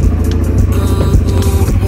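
A vehicle engine revving while parked on desert sand during a camping trip in Morocco, a loud close low rumble that pulses steadily for two seconds.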